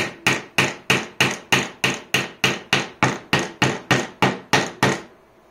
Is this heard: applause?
no